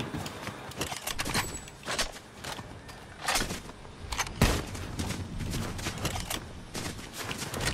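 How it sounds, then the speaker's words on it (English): Gunfire rattles through a ranked video game match in a string of sharp cracks and short bursts at moderate volume, mixed with footsteps and other busy in-game noise. "People shooting behind us."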